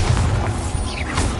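A Bombarda blasting spell goes off in Hogwarts Legacy: a single loud, close booming explosion with a crashing burst that fills the short moment.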